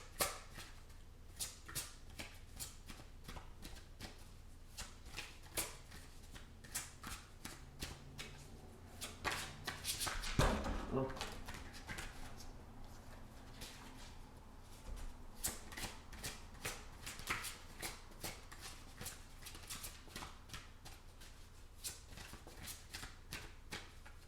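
Oracle cards being shuffled over and over by hand, a long run of rapid close flicking and rustling with a brief louder burst midway, quiet and steady, no talking.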